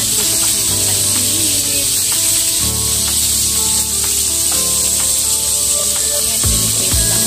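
Pancit noodles frying in a pan in a home kitchen, giving a steady loud sizzle and hiss throughout with occasional scrapes and clinks of a utensil.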